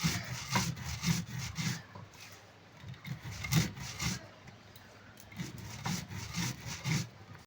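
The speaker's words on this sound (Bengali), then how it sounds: "আমি এখানে মিক্সিতে গুঁড়ো করলাম না আমি শিলেই গুঁড়ো করছি আর এই ভাজা মশলা গুঁড়ো করছি" Roasted spices for homemade jaljira are ground by hand with a stone on a traditional grinding slab, making repeated gritty rubbing strokes in a steady back-and-forth rhythm, close and moderately loud.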